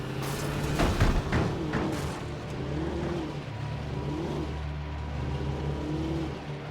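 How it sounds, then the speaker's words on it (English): A damaged car engine in the game Alan Wake revs and strains, rising in a rough surge early on, then settling into a wobbling, uneven drone that keeps pulsing. "The car isn't sounding very good."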